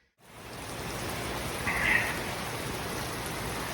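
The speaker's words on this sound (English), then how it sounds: "pouring rain, but we're putting heads on." Heavy pouring rain falling outdoors, a dense steady hiss of drops that fades in at the start and holds at a constant moderate level, with no one speaking.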